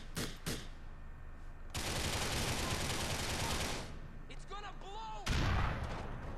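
Rapid gunfire in GTA 4, dense bursts of automatic shots that stop and start across the clip, with brief quieter gaps carrying small chirping effects before a final loud burst.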